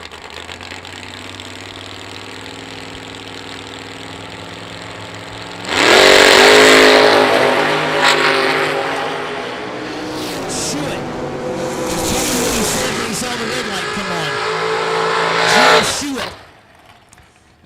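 Dragster engine at a drag racing event: low background rumble, then a loud burst of engine noise around six seconds that stays strong with revving swells before cutting off near the end; a voice may be heard under it.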